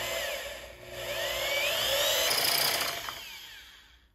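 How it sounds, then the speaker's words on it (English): A power drill bores a bit through the housing of a JET power tool, a steady high whine rising in pitch as the bit cuts, loud and close, then breaking off near the end. "I'm being very careful that I don't end up jamming the drill bit right into everything that's inside here"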